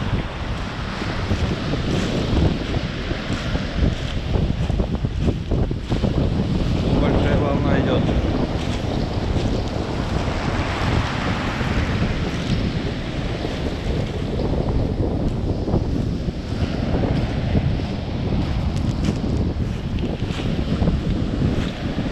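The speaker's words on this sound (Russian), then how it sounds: "Мне нравятся такие волны с пеной." Foamy waves roll onto a Black Sea beach at Sochi, a continuous rushing surf with swelling crashes, heavily buffeted by wind noise against the microphone.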